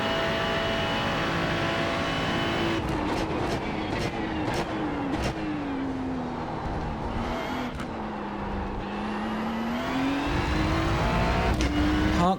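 A racing car laps the Monza circuit, its engine droning steadily at high revs with rapid gear shifts and a rising whine, heard continuously from onboard.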